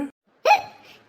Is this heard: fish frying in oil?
no